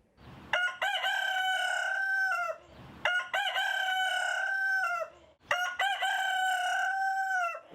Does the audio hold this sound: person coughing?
no